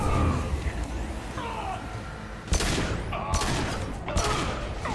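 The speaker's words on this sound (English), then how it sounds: "Now, why don't I just use the pistol?" Pistol shots in Mass Effect 2, a few sharp loud cracks spaced apart over steady game noise and music.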